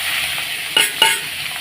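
Onions frying in oil in a pan make a loud, close hiss, with two sharp clinks of a utensil against the pan partway through.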